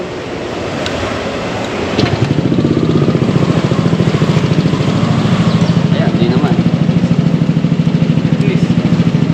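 A motorcycle fitted with an aftermarket exhaust pipe starts up and settles into a steady, loud, rapidly pulsing idle close by, with people talking over it.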